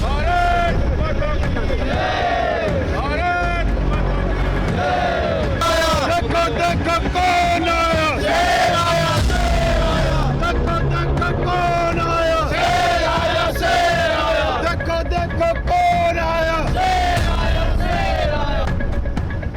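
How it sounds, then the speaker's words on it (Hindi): Crowd at a helipad chanting enthusiastic slogans to welcome Rajnath Singh, a loud, dense mass of voices shouting in repeated rhythmic waves, close and continuous throughout. "हेलीपैड पर राजनाथ सिंह का स्वागत जोशीले नारों के साथ हुआ।"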